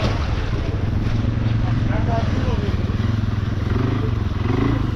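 A Polaris Scrambler XP 1000 S ATV engine drones steadily and loudly while riding off-road through muddy forest, with wind buffeting the microphone. Voices may be mixed in faintly.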